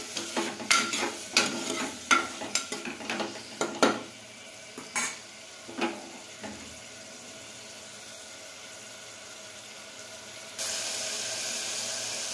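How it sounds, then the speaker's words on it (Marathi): Chicken for khard chicken is stirred and sautéed in a pan with garlic paste and onions, giving a run of close, sharp spatula scrapes and clinks over a soft sizzle, then a steady hiss of frying near the end. "चिकन व्यवस्थित परतून घेऊया।"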